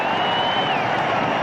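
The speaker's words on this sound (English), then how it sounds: "That's brought the crowd to life indeed" Cricket crowd at a one-day international between Sri Lanka and England in Dambulla, 2001, roaring steadily after a four off the first ball of the run chase, a dense sustained wash of cheering and noise.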